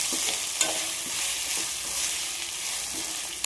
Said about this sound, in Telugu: మనం ముందుగా తురుము పెట్టుకున్న పొటాటో అయితే వేసేస్తున్నాను.